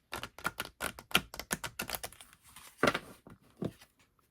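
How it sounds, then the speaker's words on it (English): Oracle cards shuffled close up, making a quick run of sharp, crisp clicks and flicks that slows and thins toward the end. "I'll do one more shuffle"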